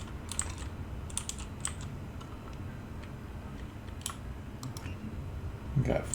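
Rapid light clicks sound over a steady low hum as items are shift-clicked in the inventory of the game Space Engineers, coming in short close bursts spread across the clip.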